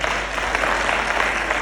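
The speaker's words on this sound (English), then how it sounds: "let us give them a round of applause" Applause from a seated audience at a live entrepreneurship event, a dense, continuous rush of clapping at fairly high volume, unbroken and without speech.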